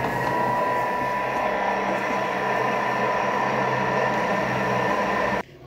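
A Thermomix whirs at speed 5 mixing cake batter for a number cake, a loud steady motor hum with a constant high whine that cuts off abruptly near the end.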